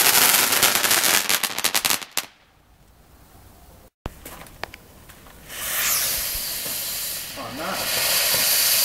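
Backyard fireworks go off in a loud crackling burst of bangs and hiss, then a sudden near-silence, followed by a long rising hissing whoosh as more fireworks ignite; a person briefly exclaims over it.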